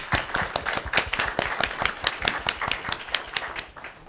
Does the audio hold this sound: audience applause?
yes